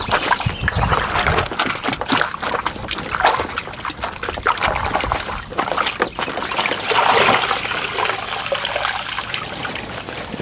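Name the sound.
water splashing while washing pack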